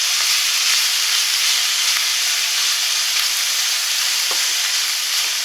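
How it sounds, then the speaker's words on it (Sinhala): Bitter melon and meat stir-fry in hot oil, giving a loud, steady sizzle with faint stirring taps throughout. "ඒතකොට කරවිල එකයි මේ මස් එකයි අපි දෙකම එකට පොඩ්ඩක් තෙලෙන් බැද ගන්න ඕනේ."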